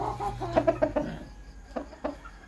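Sweater Kelso gamefowl rooster of the Roy Bunguyan line giving a short run of close clucks and throaty calls, then a couple of softer clucks after a pause, alone with no talk.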